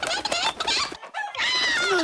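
Chickens clucking and squawking up close on a farm, loud excited calls in dense bursts with a short pause midway before the clucking resumes.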